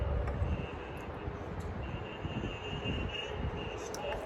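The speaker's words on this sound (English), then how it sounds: "I have a little street noise above me" A steady low rumble of distant street traffic, a continuous wash of engine noise with faint higher tones drifting in and out.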